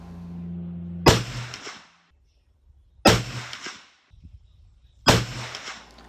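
Three loud muzzleloader shots fired with 100-grain White Hot powder pellets, Barnes 250-grain bullets, each a sharp blast with a short rumbling tail, spaced about two seconds apart, no talking.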